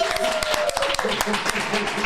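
A live studio audience at Mulberry Lofts gives a steady round of applause, a dense patter of claps with a voice talking over it the whole time.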